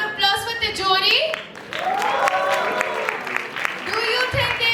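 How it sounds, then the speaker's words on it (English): Audience applause and cheering for a startup at an international startup competition, a broad wash of clapping from a crowd that lasts throughout, with music and voices mixed in beneath. "First up, a round of applause for Tijori."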